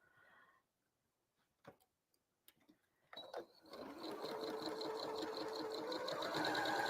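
A sewing machine chain pieces fabric for a Friendship Star quilt block. A few quiet handling clicks come first, then the motor starts and runs in a steady, loud, continuous stitching whir that builds and holds.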